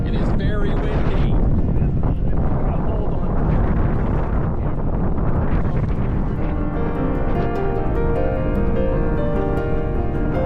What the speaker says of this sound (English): The winds are crazy